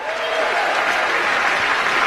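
A large audience at the ESPYs claps steadily and loudly, a dense, even wash of applause that holds for the whole moment with a faint crowd murmur underneath.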